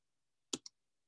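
Computer mouse clicking during a mapping software demonstration, two quick sharp clicks in close succession, crisp and near in otherwise quiet surroundings.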